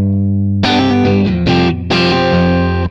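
Distorted electric guitar plays a simplified rhythm lick, chords ringing out with quick hammered fills and slides, loud and close through an effects-laden tone with no talking.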